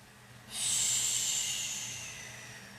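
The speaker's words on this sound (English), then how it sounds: "Take a few rounds of breath." One long, deep breath during a mellow yoga stretch, a sudden airy rush that starts strongly and slowly tapers off, close and alone in a quiet room.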